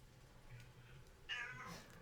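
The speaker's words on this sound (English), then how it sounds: "My cat wants a little cameo in this video." A pet cat meows close by, one clear drawn-out cry near the end over a quiet indoor background.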